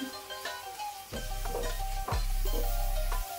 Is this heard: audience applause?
no